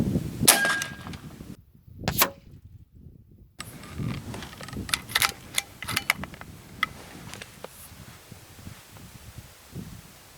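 A .357 caliber air rifle fires at a target 100 yards out: a single sharp crack near the start, followed by faint scattered clicks and rustling outdoors.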